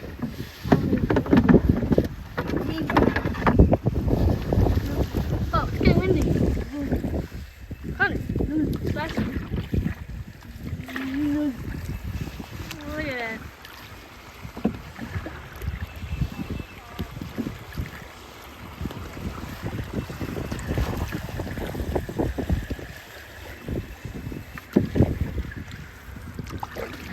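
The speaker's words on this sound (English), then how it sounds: "Oh, it's getting windy." Wind buffets the microphone during a canoe trip on the water, gusty rumbling bursts rising and falling over paddling splashes, with people talking intermittently.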